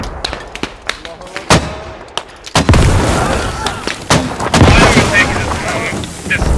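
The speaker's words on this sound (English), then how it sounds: "Our mortars hit the fucking tree, dude." Mortar fire and explosions in the military shooter Squad, with sharp booms and rapid gunfire cracks, some near and loud, others rumbling farther off, under voices talking.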